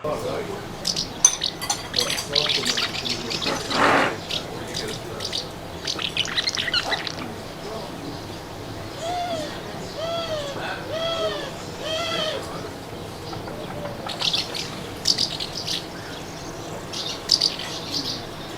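A barn owl calls repeatedly in a series of short, hooting, chattering notes amid other birdsong in a busy town on Lesvos, moderately close, with brief breaks between bursts.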